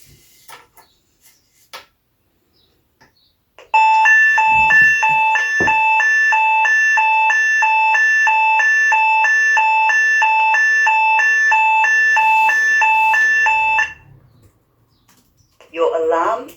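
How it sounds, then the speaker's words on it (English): A Chiptech EVA digital telecare base unit sounds a loud pre-alarm after a pendant button press: a steady, warbling electronic tone pulsing rapidly for about ten seconds, close and dominant, with faint handling noise before and a brief voice afterward. "When you press your pendant button, a loud pre-alarm will sound."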